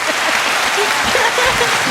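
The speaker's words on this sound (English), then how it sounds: "Clap." An audience at a live wedding-themed talk show claps in a steady, loud burst of applause that continues throughout, with a few voices faintly mixed in.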